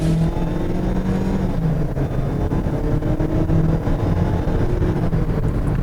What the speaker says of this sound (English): we're gonna get on the gas with all of its 78 miles that's on here